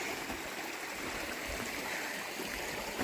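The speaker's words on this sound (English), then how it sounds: "coming down here across a very pretty little stream" A very pretty little stream runs beneath a footbridge on a long-distance hiking trail, its water rushing and gurgling in a steady, close, continuous wash without any voices.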